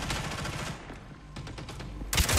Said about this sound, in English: could you not hear fucking gunshots?